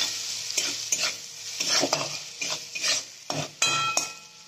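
Broccoli stirred with red chilli powder and sugar in a hot pan, a steady sizzle broken by repeated scraping strokes of a spoon, close and clear, with no voices.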